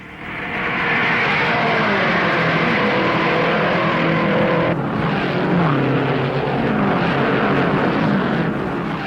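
Race cars at the 1959 Indianapolis 500 roar past on the oval at around 170 mph, a loud sustained engine drone swelling and shifting as machines speed down the backstretch.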